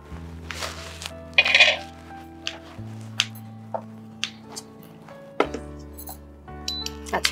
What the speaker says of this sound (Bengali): আচ্ছা, এবারে কড়াই দেবো